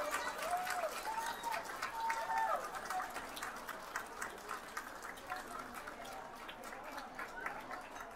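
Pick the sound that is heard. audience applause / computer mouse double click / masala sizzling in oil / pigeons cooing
audience applause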